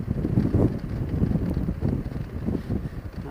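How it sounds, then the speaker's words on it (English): Wind buffeting a rider on a moving motorcycle, a continuous low roaring rush with gusty swells, loud and close to the helmet microphone, with no talk over it. "I can feel total a lot of wind right now"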